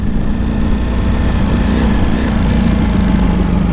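The engine of a Ducati Panigale V4S motorcycle under throttle while riding. It is a loud, continuous, droning roar heard close up, mixed with wind rush, with no talking.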